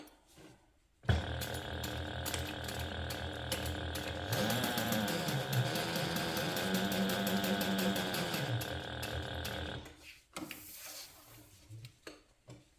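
A sewing machine bastes a handbag fabric piece at an eighth-inch seam allowance, running steadily and fairly close for about nine seconds, changing pitch midway, then stopping with a few light handling clicks.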